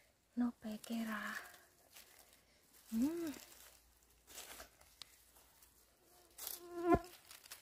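Mosquitoes whine and buzz close by in a forest during mushroom picking. The thin buzzing passes in and out, with soft voices and rustling under it.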